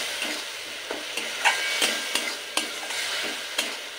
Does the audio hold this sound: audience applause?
no